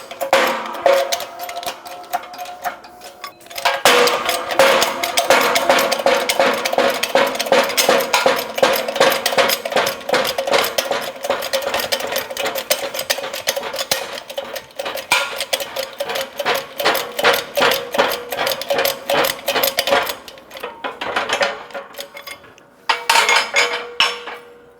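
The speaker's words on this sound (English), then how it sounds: "Set the control arm up in the press. We're going to use a 30mm socket and a cup on the bottom to push the shock bushing out." A shop press with a 30mm socket and a cup pushes the shock bushing out of a 2003-2007 Honda Accord front lower control arm, giving loud, continuous rapid metallic clattering with a few brief pauses.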